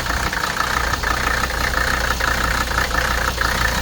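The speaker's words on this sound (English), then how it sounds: "It's the little 5-cylinder Turbodiesel that just runs forever." Mercedes 300SD five-cylinder turbodiesel from 1978 idling steadily with a rough, even clatter, heard close up under an open hood with no talking.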